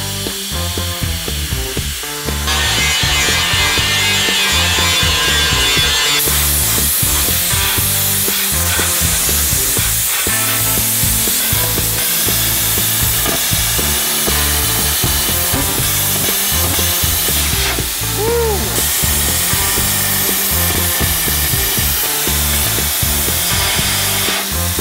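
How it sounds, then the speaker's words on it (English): A loud, continuous hissing blast of abrasive against a metal Jeep hood scoop, stripping paint and stickers, runs for the whole stretch, steady and close with brief shifts in tone. "Sandblasting is a great way, probably the ideal way, to remove rust from metal"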